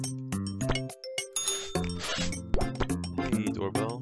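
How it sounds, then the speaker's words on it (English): A doorbell chimes in the cooking game Papa's Scooperia, a short ding-dong set among bright, bouncy game music and other chiming interface tones. "Hey, doorbell."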